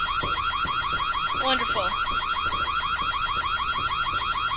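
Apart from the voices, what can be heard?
alarm going off in the video game White Day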